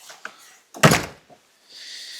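A door swings shut with a solid thunk, followed by a quiet moment and then a soft rush of wind outside in Iceland.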